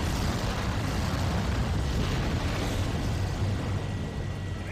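Core rupturing explosion in the sci-fi horror game Dead Space: a dense, sustained roaring rumble with heavy low-end body that holds steady for several seconds without distinct peaks.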